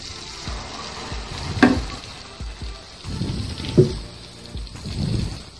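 Split green moong dal is stirred into hot oil in a pan with crushed black pepper, giving a steady close sizzle broken by two sharper scrapes and stirring pushes.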